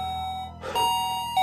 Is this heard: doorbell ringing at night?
yes